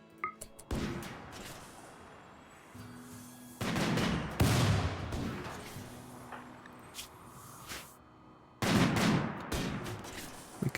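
Gunfire in the colony game RimWorld comes as several loud bursts of rapid shots, separated by quieter stretches with single cracks and impacts.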